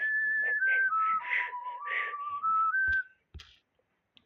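A whistling character in the video game Sprinki gives out a bright, sliding whistled melody over soft background tones, ending with a few sharp clicks and then near silence.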